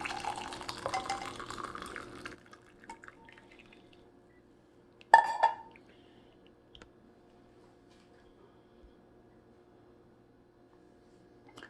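Rosemary tea being strained, a steady trickling pour of liquid for about two seconds, then a quiet pause, a brief clink of glassware, and faint scattered drips afterward.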